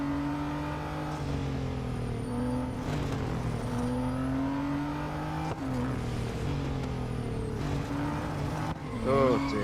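A Porsche Mission R race car in the racing game Real Racing 3 drives with a steady, close engine drone whose pitch rises and falls as it chases another car, with a brief higher whine near the end.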